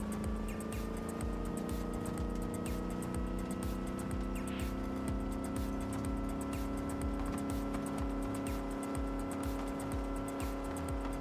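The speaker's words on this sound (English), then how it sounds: "Got a really satisfying gear changing noise." A car engine in the video game Cyberpunk 2077 drones and revs through gear changes, its pitch sliding steadily upward over a rapid mechanical pulse, loud and continuous with no voices.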